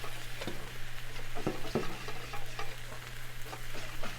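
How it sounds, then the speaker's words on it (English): Milk sauce for fettuccine Alfredo cooks on a Blackstone griddle, a soft, steady bubbling sizzle with a few light taps of a utensil, fairly quiet and without talking. "So a little bit of milk, and then you're going to stir and you're going to let it cook."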